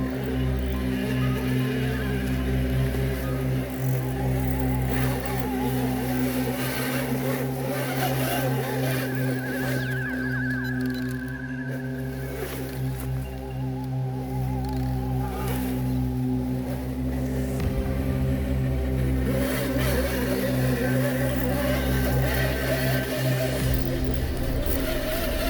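An Axial SCX6 RC truck runs at full throttle up a steep rocky quarry incline. Its motor gives a loud, steady whining drone with a constant harmonic hum throughout.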